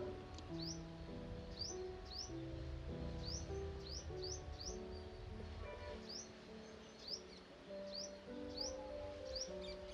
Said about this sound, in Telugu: పొద్దున్నే పక్షుల కిలకిలా రావాలు